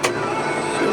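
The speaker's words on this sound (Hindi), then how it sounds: "अगर मैं इसके दोनों कैबिन बंद कर लेता हूँ तो अंदर बहुत ही कम साउंड आता है ट्रैक्टर का" A New Holland TD5.90 tractor engine idles as a muffled, steady low drone inside the closed cab, with a brief sharp click or thump at the start.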